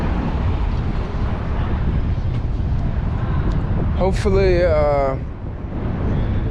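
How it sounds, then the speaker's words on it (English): Gusty wind buffeting a microphone on a San Francisco street, a constant broad rushing roar with a brief voice speaking partway through. "It's a little windy today."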